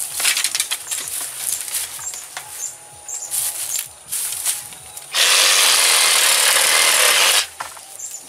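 A reciprocating saw cuts through a chayote vine outdoors in strong sun: scattered crackling and snapping of stems at first, then a loud, steady, close buzzing burst of cutting lasting about two seconds before quieter rustling returns.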